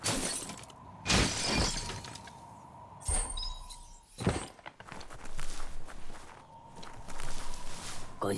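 Box smashed apart in the Biomutant video game, with sharp breaking, shattering crashes near 1, 3 and 4 seconds over a steady game tone and ambient background.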